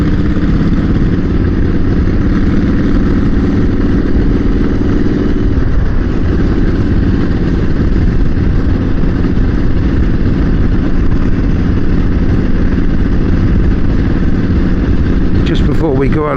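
Triumph motorcycle engine idling steadily and loudly at close range as the bike pulls in, with a slight change in tone partway through and a brief clatter at the end.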